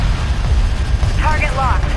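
Units firing on a target in the real-time strategy game Homeworld: Deserts of Kharak, with dense rumbling weapon bursts and mechanical clatter running throughout, plus brief chirping electronic tones near the end.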